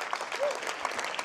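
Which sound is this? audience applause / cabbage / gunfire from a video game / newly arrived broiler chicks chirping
audience applause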